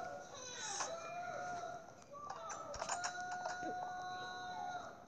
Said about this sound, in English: As you can see, there's pigs, sheep, and chicken.